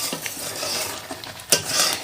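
A spatula scrapes and stirs thick raw mango pulp in a wok over low heat, giving soft rhythmic scraping with a faint sizzle and one sharper clink of utensil on metal, close and with no talking.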